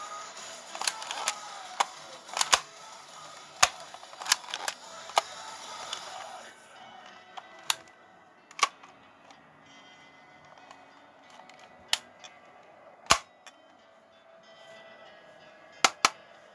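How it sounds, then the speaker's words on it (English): A toy shell-ejecting Nerf-style gun is primed and fired, producing a series of sharp plastic clicks and snaps at irregular intervals, close and isolated against a quiet background. "How you prime a toy gun."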